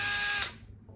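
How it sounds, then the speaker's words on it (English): A power drill whines loudly, bearing down to drill a hole in a 2020 widebody Dodge Charger Scat Pack, then cuts off abruptly after about half a second, leaving only faint background noise. "Get ready to drill the hole."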